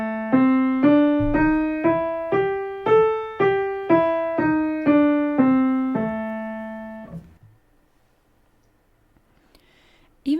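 A minor blues scale played note by note on a pitched instrument, about ten evenly spaced tones rising then falling, each decaying before the next, ending in a held note and then near silence.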